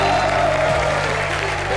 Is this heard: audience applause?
yes